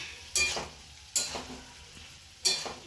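Vegetable curry with bori being stirred in a pan, with three scraping strokes of a spoon over a soft, steady sizzle.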